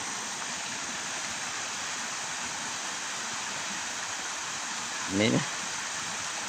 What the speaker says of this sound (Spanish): podemos ver esta tremenda quebrada, tremenda cascada